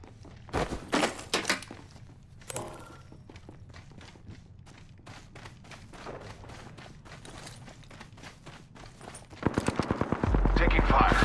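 Gunfire in the video game Apex Legends: rapid bursts of shots in a dense run through the middle, with louder sustained firing and a roaring blast near the end, mixed with game effects.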